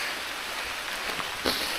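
Rain falls steadily on a rocky trail during a 50 km trail run in the Tanaosri mountains. It makes a dense, even hiss throughout, with a slightly louder patter near the end.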